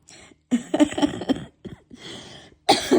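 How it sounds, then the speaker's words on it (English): Several sharp coughs in quick bursts, close to the microphone, separated by short pauses, with no talking. "Excuse me, got a little cough."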